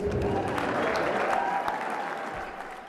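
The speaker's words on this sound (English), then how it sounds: "One more round of applause for the businesses." Sustained applause from an audience at a campus contest show, a dense, steady wash of clapping heard alone that gradually thins and fades toward the end.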